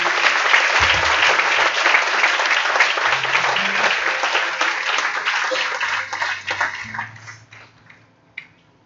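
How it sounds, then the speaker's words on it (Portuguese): A church congregation at an evening worship service in December 2019 applauding together, loud steady clapping for several seconds with brief low voices underneath before tapering off to near silence. "Vamos aplaudir o Senhor, irmão."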